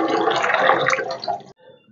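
Lightly greasy dishes are scrubbed with a scrubber under running water, a dense rushing splash that stops abruptly after about a second and a half, leaving only faint drips.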